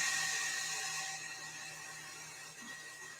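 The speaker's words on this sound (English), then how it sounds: "I'm getting under my hair dryer" A hair dryer blows with a steady, whining roar close by, holding a constant hum that fades slightly over a few seconds.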